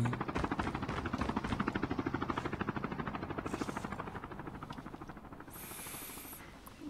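A helicopter in Call of Duty: Mobile beats overhead with rapid, rhythmic rotor chopping that slowly fades, followed by a brief high-pitched game tone.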